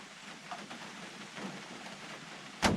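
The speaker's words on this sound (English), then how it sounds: "what do you do on a rainy day like this?" Rain falls outside a camper as a soft, steady patter with scattered drops, quiet and even, ending with a brief sharper noise.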